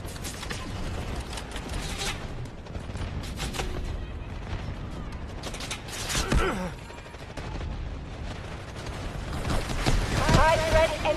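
Dense war-game battle din with repeated booming blasts and crackling gunfire from an artillery barrage, continuous and loud across the whole stretch, with a voice speaking in the mix.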